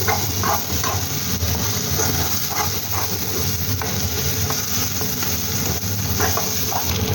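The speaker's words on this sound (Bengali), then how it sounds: "এই পুরটা ভাজা ভাজা হচ্ছে" Constant hissing sizzle of a pea kachori filling frying in a pan, close up, with occasional light scrapes of stirring and no speech.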